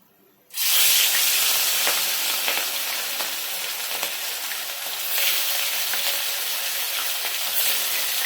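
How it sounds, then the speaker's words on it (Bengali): Rohu fish pieces frying in hot oil: a loud, steady sizzle and hiss begins abruptly after a brief quiet moment and continues densely with small crackles throughout, no talking. "তেলটা খুব ভালোভাবে গরম হয়ে গেছে, এবার মাছগুলো দিয়ে দেব।"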